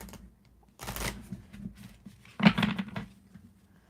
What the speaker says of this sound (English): That was kind of a messy little shuffle.